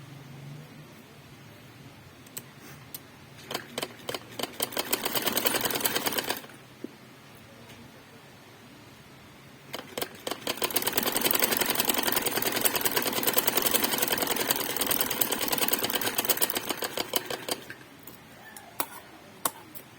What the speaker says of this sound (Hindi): इसी तरह दूसरी तरफ से भी सिलाई लगाएंगे।